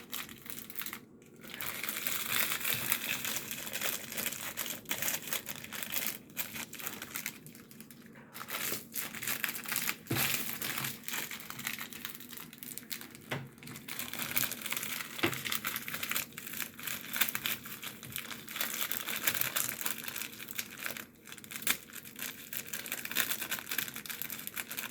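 Cookies being smashed for homemade cookies and cream ice cream, a steady, close run of crinkly crunching and crushing with irregular louder cracks, continuing without talk.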